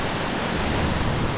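Ocean waves surge against the rocky cliffs at Devil's Tears on Nusa Ceningan, making a loud, continuous broadband roar of churning, spraying water with no separate crashes.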